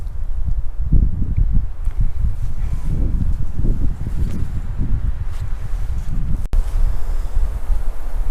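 Gusty wind buffets the microphone on a mountain hike in the Kaiser Peak Wilderness, a loud low rumbling roar that rises and falls in uneven bursts throughout.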